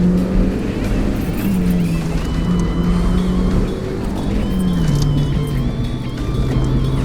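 An NB Mazda Miata pulls hard along a canyon road, its engine note loud and continuous from inside the car, pitch climbing and dipping with gear changes and throttle over steady road rumble.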